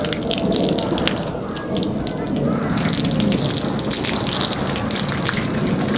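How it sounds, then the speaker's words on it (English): Garden hose spraying water onto a car during a wash, a steady broadband hiss and splatter that runs continuously throughout at close range. "Well, let me turn the hose on first, then I'll wash it again."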